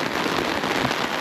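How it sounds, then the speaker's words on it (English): Steady rain falling outdoors in Switzerland, heard as a dense, even hiss of drops pattering on surfaces, constant and fairly loud throughout with no voices. "Guys, it's raining."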